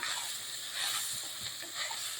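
Shallots and grated coconut fry in a pan over medium flame, giving a steady, soft, even sizzle and hiss that carries on without pause, with faint stirring scrapes underneath.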